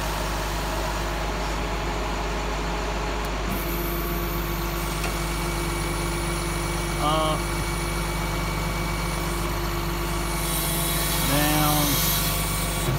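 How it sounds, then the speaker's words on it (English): The crane on a 2009 International DuraStar mechanics service truck works up and down over a steady idling truck engine, with brief rising hydraulic whines at two points. "I'm just going to show you the basic stuff on the crane, up and down and all that."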